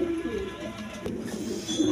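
A male pigeon of a coloured Rajgolla variety coos softly and close by, a low throaty murmur repeated a couple of times against a quiet background.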